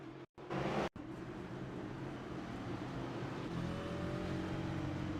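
Race car engine from a sim racing game at Martinsville revs hard right after two short breaks, then holds a loud, steady drone with rising and falling pitch through the gears, finishing over-revved.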